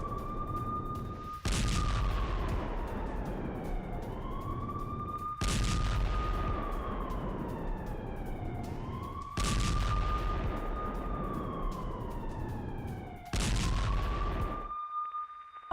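A missile strike on Lebanon, carried out by the IDF against Hezbollah positions, brings repeated heavy booms roughly every four seconds, each a loud sudden blast, layered over a continuous wailing siren tone that swoops up and down between them.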